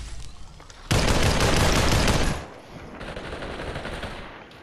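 Rapid gunfire from the video game Population: One, a dense burst of shots lasting about a second and a half that ends abruptly and gives way to quieter game ambience, with no voices.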